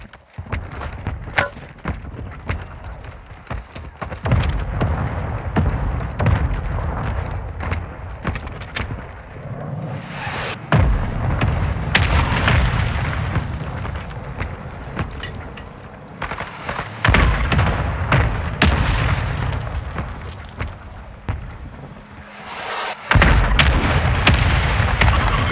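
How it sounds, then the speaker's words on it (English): Mortar strike in the video game Warzone 2: heavy booming explosions rumble one after another over a continuous loud battlefield din, with sharp gunfire cracks and footsteps mixed in. "Our mortar strike is inbound."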